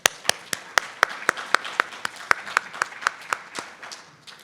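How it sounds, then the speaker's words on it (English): A small audience at a conference claps, with distinct individual hand claps in a fairly regular rhythm, close and moderately loud, fading toward the end. "I want to give all of us a round of applause"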